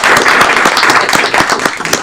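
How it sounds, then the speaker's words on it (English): Audience applause breaks out at an Aurora city council committee meeting, a dense burst of close hand claps that holds steady for a couple of seconds. "Another round of applause for Ms."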